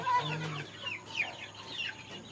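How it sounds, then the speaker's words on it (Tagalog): Free-ranging chickens clucking near a forest edge on a farm in the Philippines, a quick series of short, close, fairly soft clucks in an uneven rhythm. "Ito mga manok ni Lolo. Yan. Ang ingay oh."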